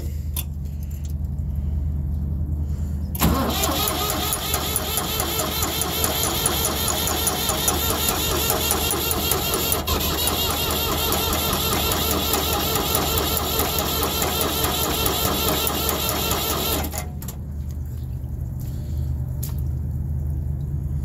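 Cold van engine in a shop turning over and catching, then idling with a steady, close mechanical rattle for about fourteen seconds before cutting back to a low background hum.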